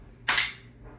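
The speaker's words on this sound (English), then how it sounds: "That should be geared up for another shot." A single sharp crack from an Umarex TR50 air rifle fired while plinking at night, sudden and close with a short fading tail.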